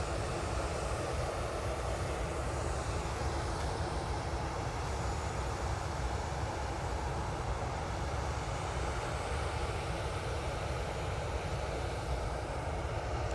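A Ryanair plane arriving at Manchester Airport gives a steady, distant engine roar that holds at an even level throughout, with no voices.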